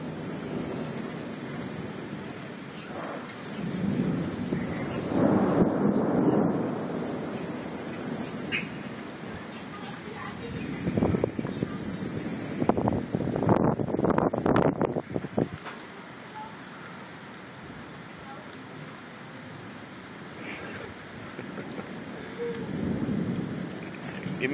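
Thunder from a lightning storm in Conover rolls in a few low, swelling rumbles of moderate loudness, set against a soft hiss of rain and rustling.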